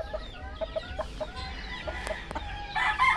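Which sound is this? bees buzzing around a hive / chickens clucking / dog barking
chickens clucking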